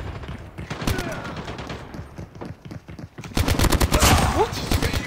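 Rapid video game gunfire, dense bursts of automatic shots that crackle throughout and swell louder in the second half, with a voice talking over the shooting.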